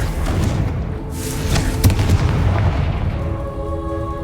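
Blasting spell explosions in the Hogwarts Legacy video game, with several booming thuds and crackling bursts in close succession over a steady rumbling game background.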